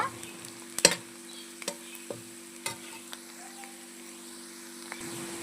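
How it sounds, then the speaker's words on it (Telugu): Onions browning in a pan for a Telugu-style chicken fry sizzle steadily while a spoon scrapes and clacks against the pan in irregular strokes, close and fairly clear. "మనకి ఎర్రగడ్డలు అయితే మంచి బ్రౌన్ బ్రౌన్ కలర్లో అయితే ఫ్రై అయిపోయాయి కదా"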